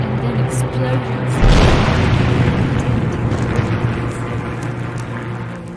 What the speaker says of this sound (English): and then explosions.